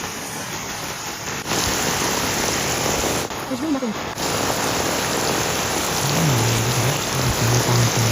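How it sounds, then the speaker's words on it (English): Heavy rain pours down in a dense, loud, continuous hiss close by, while a person speaks briefly partway through and a tonal whine rises near the end. "it's raining really hard."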